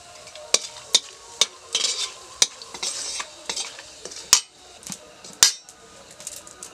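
Whole spices (cumin, dried red chillies, bay leaves, cloves, cardamom and cinnamon) fry in hot oil while a spoon stirs them, giving repeated sharp scrapes and clinks against the pan over a low, steady sizzle.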